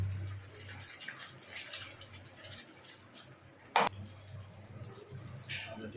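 Water poured into a pan of paneer masala while it cooks, splashing and trickling near the mic, with a sharp burst of pouring midway against a low background hum and stirring noise.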